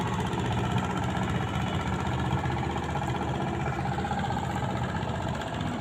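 A motorized passenger boat on the Padma river drones steadily as it passes, its engine a continuous, fairly loud mid-pitched rumble with no voices.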